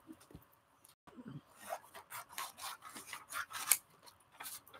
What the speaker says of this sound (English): let me get a bigger scissors here